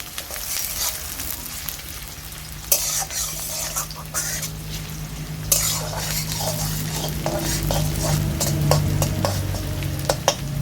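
Chopped onion sizzles steadily in a pan while a spoon stirs and scrapes it, with occasional sharp clinks against the metal over a continuous frying hiss, as part of cooking a banana-flower ghonto.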